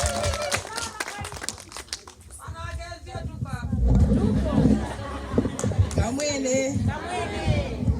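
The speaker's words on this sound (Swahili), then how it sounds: "Tupigie makofi." An audience at an outdoor campaign launch event claps, the applause swelling from about 4 s and continuing with crowd chatter while a voice talks throughout.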